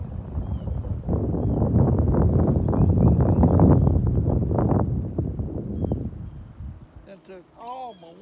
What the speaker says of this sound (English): Wind's whipping me back and forth.